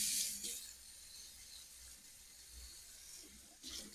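Tap water runs softly over peppers being rinsed in a kitchen sink before blanching, a faint steady splash with brief louder bursts at the start and end.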